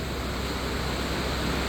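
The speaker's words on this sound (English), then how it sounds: "Pouring rain" Pouring rain outside an automotive shop gives a steady, dense broadband hiss with no breaks for the short stretch, and no voices over it.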